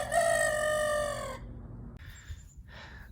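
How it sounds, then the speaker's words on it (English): A pet rooster crowing once, played back from a recorded phone video: a loud, harmonic cock-a-doodle-doo lasting over a second, followed by quieter muffled background noises and faint rustling. "that's what he sounds like when he crows"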